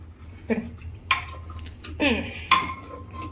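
Cooked carrot being mashed in a metal pan for carrot halwa, heard as a few separate scraping, clinking strokes of a utensil against the pan at a close distance, with quiet pauses between them.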